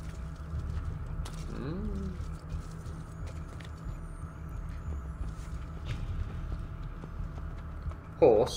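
Hooves of a horse clip-clopping in the Assassin's Creed II video game, a quiet steady walking rhythm under game ambience, with brief voices and a short sharp sound near the end.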